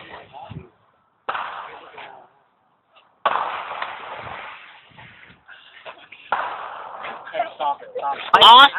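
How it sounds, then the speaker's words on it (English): Amateur fireworks and firecrackers going off in a string of sharp cracks and bursts with crackling tails, close and loud, interleaved with people talking and shouting, ending in a dense crackling flurry. "Some fireworks, man!"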